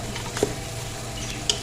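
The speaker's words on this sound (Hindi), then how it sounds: "पाए जो हैं ये बहुत अच्छे से भून चुके हैं" Goat trotters being browned in ghee in a pot, with a soft continuous sizzle and a couple of brief stirring scrapes, close by with no talk.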